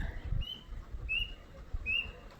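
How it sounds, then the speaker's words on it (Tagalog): A bird sings a few clear, thin whistled notes spaced apart over soft low background rumble. "Ang ganda po ng huni ng ibon dyan guys."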